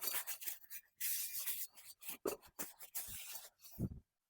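Brisk back-and-forth rubbing of a cloth over a brake drum to wipe off grease and oil during an axle seal replacement, in close repeated strokes with short pauses, ending abruptly.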